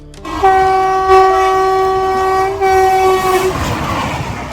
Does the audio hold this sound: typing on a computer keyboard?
no